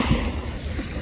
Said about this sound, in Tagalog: lumalakas yung alon pala.